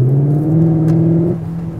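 A Cupra Leon sports car's engine holds a loud, deep, throaty drone close by, then eases off slightly toward the end.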